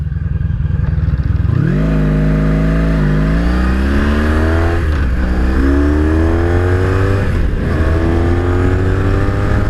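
A 1983 Honda Sabre VF750S motorcycle engine revs and climbs through the gears while riding, loud and close, with a steady rising whine and rumble throughout.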